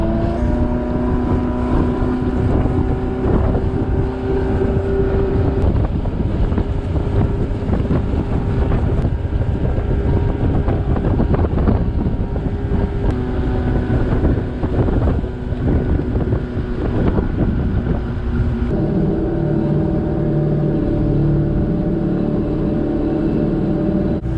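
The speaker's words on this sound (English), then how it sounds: "Wow, it is so windy. This is brutal." Strong wind roars continuously into the microphone on a lake, a heavy buffeting rumble with an engine droning beneath it, loud and unbroken throughout.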